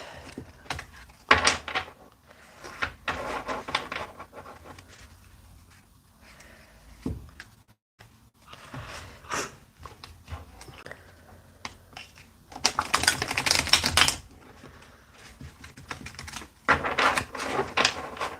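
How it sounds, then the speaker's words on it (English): A tarot deck, slightly damp from moisture, gets shuffled vigorously by hand. Close, papery riffles and rustles come in uneven bursts, with quieter handling sounds between them. "I'm giving them a really good shuffle today because these cards are like starting to absorb moisture now"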